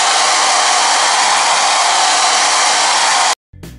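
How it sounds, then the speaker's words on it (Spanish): A hair dryer blows steadily at close range to dry fabric paint on a denim jacket, a loud continuous whoosh that cuts off abruptly near the end. "secador de pelo al canto."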